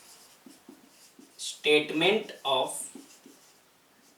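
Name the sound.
writing the statement down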